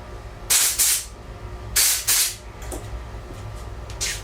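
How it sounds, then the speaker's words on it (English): Compressed air blasts cleaning a Yamaha outboard carburetor: two loud bursts of hissing air, each a doubled puff close to the mic, followed by softer short hisses and a faint spurt near the end. "one more quick air shot on that"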